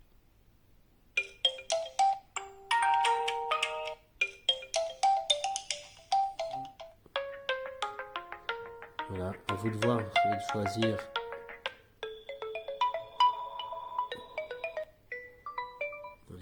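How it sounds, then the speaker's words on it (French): Ringtones and notification tones previewed one after another in the sound settings of an Oppo A9 2020 smartphone: bright, melodic electronic jingles in short bursts, loud and close, with a French-speaking voice commenting between and over them. "c'est là où vous définissez les sonneries que vous voulez écouter pour vos téléphones"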